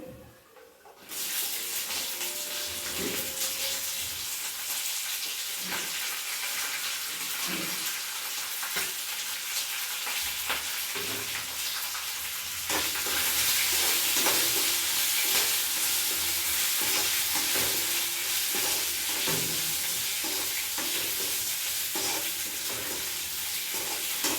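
Green chilli strips and ginger frying in a tempering of spices in a pan, a continuous close sizzle with scattered stirring taps that grows noticeably louder partway through, with no one talking.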